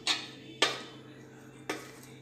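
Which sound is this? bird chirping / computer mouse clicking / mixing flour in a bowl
mixing flour in a bowl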